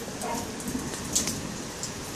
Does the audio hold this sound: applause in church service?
no